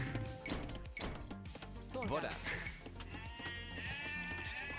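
Repeated sheep bleats over a busy game soundscape with chopping thuds and other effects, fairly loud and continuous.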